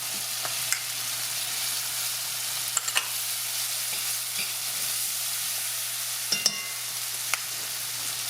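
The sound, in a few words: onion frying and being stirred for Salisbury steak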